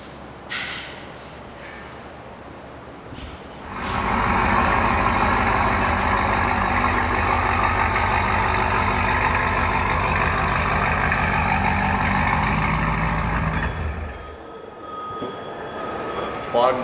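A turbocharged LS-swapped Chevrolet Nova engine fires up and runs with a loud, steady, deep rumble for about ten seconds before shutting off, with people talking quietly before and after.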